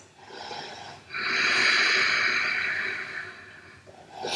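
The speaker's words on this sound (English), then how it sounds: "Staying here for a couple of breaths" One slow, steady breath held during a yoga stretch in a vinyasa flow: a soft airy exhale rising after a brief pause and lasting a couple of seconds, close and alone, then starting again.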